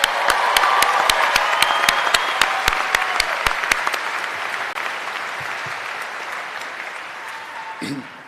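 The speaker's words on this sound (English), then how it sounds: "Another round of applause." A large commencement audience applauds loudly and steadily, a dense wash of clapping with a few sharp claps standing out, tapering off toward the end.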